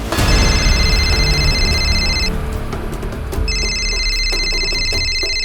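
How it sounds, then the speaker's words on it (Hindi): A telephone rings loudly in two trilled bursts separated by a short pause, with other background noise underneath. "ए, किसका फोन है?"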